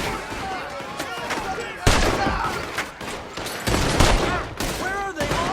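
Gunfight in Red Dead Redemption 2, with bursts of rapid gunfire and ricocheting shots breaking out repeatedly, loud and close, while characters shout over the fighting.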